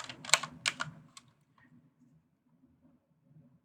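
Keys on a computer keyboard clatter in a short quick burst of several taps near the start, then fall quiet apart from a faint low background hum.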